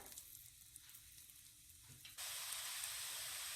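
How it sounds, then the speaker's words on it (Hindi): Onions frying in melted butter and oil for pav bhaji, a steady close sizzle that jumps to a louder, brighter hiss partway through as the onions hit the pan. "अब मैं इसमें प्याज डाल रही हूँ और इसे 2 से 3 मिनट के लिए भून लेंगे।"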